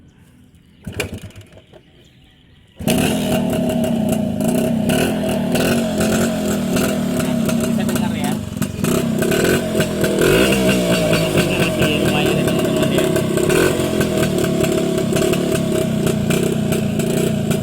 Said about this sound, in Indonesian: Nyalakan ya motornya, kita langsung aja nyalakan ya teman-teman